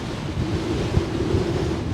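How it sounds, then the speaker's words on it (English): Strong wind gusts across open high ground on Cheviot hill in Northumberland, a steady loud roar of buffeting against the microphone with low thumps, no talking. "Bloody windy."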